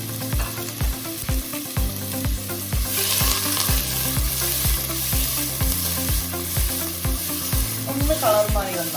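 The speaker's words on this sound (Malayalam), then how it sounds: "ഉള്ളിയുടെ ഒപ്പം തന്നെ വെച്ച പച്ചമുളക് ഇട്ട് കൊടുക്കുക. ഇനി ഇതിനെ നന്നായി സോട്ട് ചെയ്ത് കൊടുക്കുക." Onions and green chillies sautéing in a pan, a continuous loud sizzle with occasional stirring scrapes, heard close up over steady background music.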